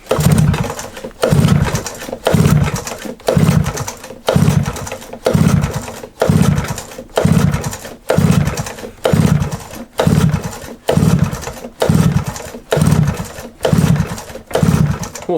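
A Suzuki LT50 quad's small petrol engine is worked at for a start, giving loud, close, regularly repeating chugging pulses roughly once a second in a steady cycle.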